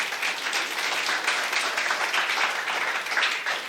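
Congregation at a celebration worship service applauding, a continuous even spread of many hands clapping at moderate loudness, heard alone.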